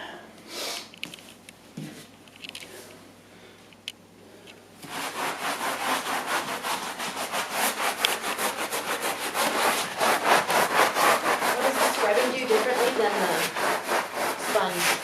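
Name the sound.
scrubbing an area rug with foam using a sponge and brush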